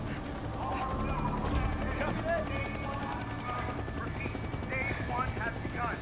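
Helicopter in a monster TV drama, its rotor and engine roar filling the scene loudly and steadily, with gunfire-like bursts and clatter mixed in.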